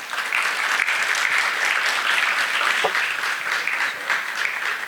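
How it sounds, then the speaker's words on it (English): Conference audience applause at a DevFest tech event: dense, steady clapping from many hands in a hall, sustained at an even loud level throughout. "A big round of applause for Dr. Abhilasha"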